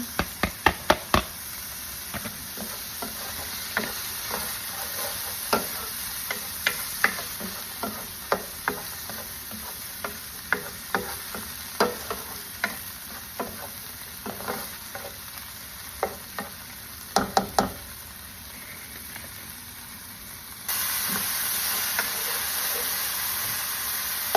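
Onion frying in a pan beside the beef, a steady hiss of sizzling broken by repeated sharp knocks of a spoon stirring against the pan, with the sizzle suddenly growing louder near the end.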